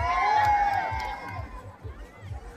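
A crowd at a Miss Gay pageant in Buenavista, Quezon, cheers and shouts in a busy, sustained swell that fades over a couple of seconds, with chatter mixed through it.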